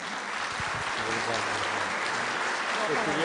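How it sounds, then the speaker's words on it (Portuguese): Audience applause for the speaker Otacílio at a spiritist association talk in São Carlos, a dense even patter of clapping that stays at a constant level from start to end, with faint voices murmuring underneath. "Uma salva de palmas, Otacílio."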